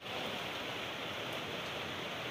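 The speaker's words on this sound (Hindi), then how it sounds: "बहुत ही तगड़ी मसलाधार बारिश हो रही है" Heavy torrential monsoon rain over farm fields, a dense, steady broadband roar with no letup, loud and close throughout and no voices.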